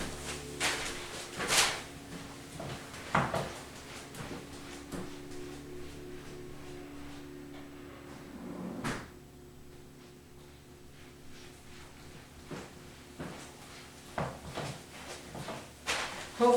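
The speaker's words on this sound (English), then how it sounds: "I'm just gonna run down there and shut the door." A door in a house is shut amid a series of scattered knocks and thuds, with one firmer bang partway through and quieter handling sounds around it.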